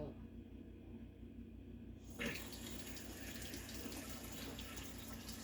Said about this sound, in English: I turn on the faucet and see if it does do a little suction.